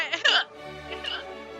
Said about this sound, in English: I have the hiccups and they won't go away